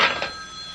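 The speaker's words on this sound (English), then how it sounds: "The phone." A telephone bell rings once at close range, a bright metallic trill that fades quickly into a lingering hum, with no voices.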